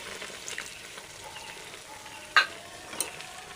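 Sukto vegetables with salt and a little water simmering in a pan, a soft, steady bubbling sizzle with a couple of sharp clicks near the end.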